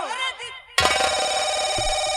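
A phone rings loudly and steadily in a home, a sustained electronic ringtone that cuts in abruptly after a short stretch of chirping, bird-like tones and continues without a break to the end.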